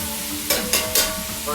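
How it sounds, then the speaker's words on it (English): Carrots and rutabaga sauté in a hot pan, sizzling steadily while a utensil stirs them in three quick scraping strokes, close and fairly loud with no talking. "going to add our carrots and our rutabaga. And we're going to saute that for about 4 to 5 minutes."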